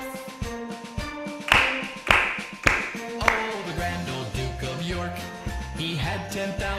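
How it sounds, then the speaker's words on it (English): Claps land in time with upbeat music during a children's online dance routine, several sharp, evenly spaced hand claps standing out early before the music carries on. "Let's have some claps."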